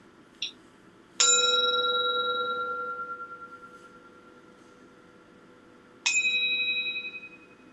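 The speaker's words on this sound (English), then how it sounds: "Thich Nhat Hanh starts with 3 sounds of the bell." A meditation bell is struck twice, each strike ringing out clear and sustained before it slowly fades, the second landing about five seconds after the first, with a faint tap just before the first strike.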